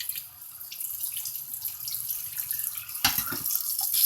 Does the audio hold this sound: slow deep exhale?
no